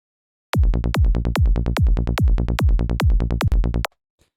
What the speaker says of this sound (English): here we've got a bass patch in Serum 2